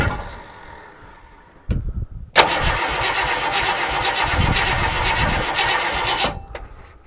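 A Ford starter cranks the engine of an old abandoned Galaxie wagon, which catches with a sharp burst and settles into a loud, rough, close running roar before cutting back down.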